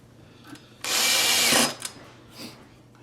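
A power drill with its clutch set very low drives screws for new cabinet door hinges into plastic inserts, one loud steady whir lasting under a second, close up, followed by brief clicks and quiet workshop noise.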